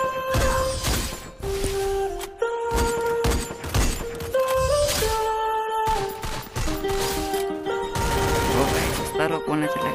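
Rapid bursts of gunfire in the Counter-Strike video game, sharp repeated shots and volleys close up, mixed with in-game tones and a voice speaking between them.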